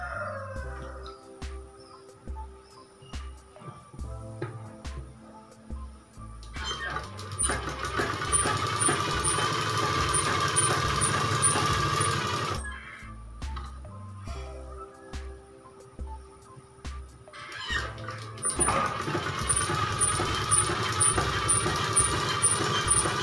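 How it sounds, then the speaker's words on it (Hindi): An electric sewing machine stitches a designer top, running in two long steady bursts of fast whirring needle rattle, separated by quieter pauses with light handling clicks and fabric movement. "ऊपर भी ऐसे ही सिलाई लगाएंगे।"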